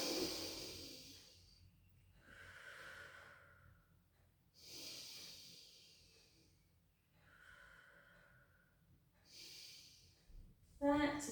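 Slow, deep breaths during a stretching exercise, each long airy inhale or exhale followed by a pause in a calm repeating rhythm, close and soft.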